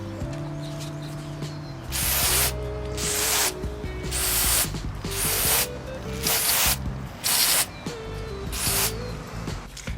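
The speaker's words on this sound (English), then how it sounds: "They have a different cleaning can to clean these to clean the wire connectors." Aerosol cleaner is sprayed onto throttle body wire connectors in about six sharp hissing bursts. Each lasts under a second, close and clear, with short gaps between them.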